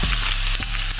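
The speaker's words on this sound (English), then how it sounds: "once that starts sizzling" Mushrooms sizzle in a cast iron skillet, a close, dense crackling hiss with small popping bursts, loud and continuous for a brief moment.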